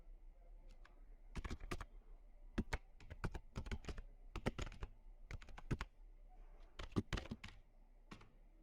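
Fingers tap out a password on a computer keyboard in quick irregular clusters of sharp clicks with short pauses between bursts, close and quiet against a low background hum, no voices.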